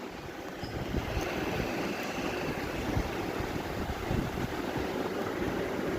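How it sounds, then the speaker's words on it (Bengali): Water in a pot of potato, onion and poppy-seed curry boils steadily with a faint, continuous bubbling hiss and no voices. "জল দিয়ে দিয়েছি এই দেখো ফুটেও গেছে"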